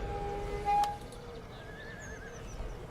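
A horse in the video game Total War: Shogun 2 gives a faint, wavering neigh, short and distant, over a low steady background with a brief sharp tone just before.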